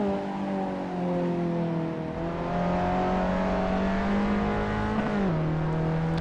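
A Fiat Abarth engine drones steadily in Assetto Corsa, holding a smooth, loud tone that slowly climbs in pitch as the car gains speed, then dips briefly at a gear change before settling again.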